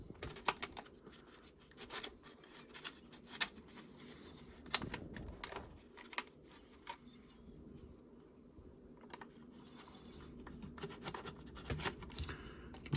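A razor blade slices open a Hot Wheels blister package, a run of sharp scratchy cuts and crinkling plastic clicks close by, irregular and unhurried, with no talking.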